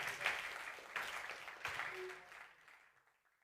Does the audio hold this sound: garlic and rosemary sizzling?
no